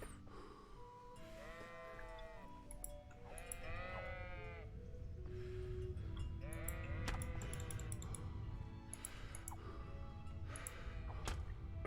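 Sheep in the video game Kingdom Come: Deliverance bleat repeatedly, several wavering calls following one another over a steady background of game ambience, fairly loud and close.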